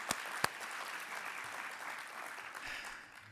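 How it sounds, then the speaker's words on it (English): Audience applause at a mayors and business leaders plenary session, a steady, fairly distant wash of clapping from a large crowd that fades slightly at the end. "Let's give a big round of applause for Neera for coming."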